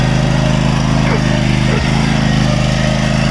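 A lawn mower runs loudly and close in a constant, throbbing engine drone at night, steady throughout with a slight pitch wobble.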